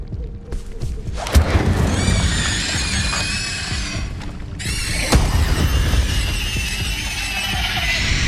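Incendio fire spell cast in Hogwarts Legacy, a booming whoosh followed by a bright, crackling flare that swells again midway and sustains loudly to the end.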